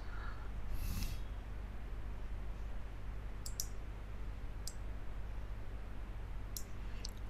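A computer mouse clicks faintly during Photoshop editing, a handful of small isolated clicks and quick double clicks spaced over a quiet room hiss.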